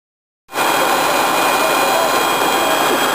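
A jet airliner's engines spool up at Managua airport, a loud, steady roar with a high whine that starts abruptly after a brief silence and holds constant, heard from close by inside or near the aircraft.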